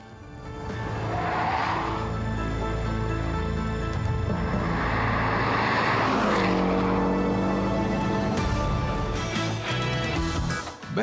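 A Porsche 718 Boxster S driven hard through a lane change at about 110 km/h with slight oversteer: continuous engine roar and road noise, rising in pitch, with a tonal tire-squeal-like whine partway through.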